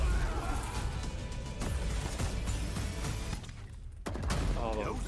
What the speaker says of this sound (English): Oh, the gun sounds so good